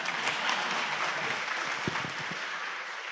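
An audience claps at a talk, a dense wash of hand claps that holds steady for a few seconds and then eases slightly, with a few louder thumps near the end.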